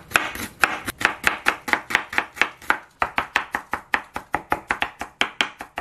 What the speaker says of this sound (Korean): 좀 곱게 다져주겠습니다